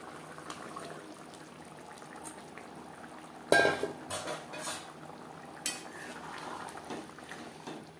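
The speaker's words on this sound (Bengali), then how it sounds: "গ্রেভি ফুটিয়ে নেওয়ার পর দিয়ে দেবো ভেজে রাখা দিন" Fried eggs dropped into boiling egg curry gravy: a low steady bubbling simmer, then a sharp splash and clatter of a spoon against the pot, with a few more scattered clinks.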